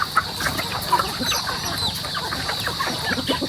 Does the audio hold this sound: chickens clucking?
yes